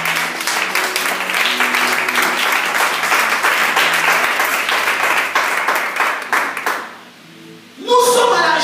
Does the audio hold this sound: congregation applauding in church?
yes